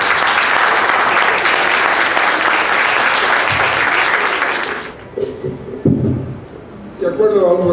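Loud, sustained applause from an audience welcoming poet Clemente Padín at the Palacio de Minería, filling about five seconds before fading into scattered claps and a voice beginning to speak.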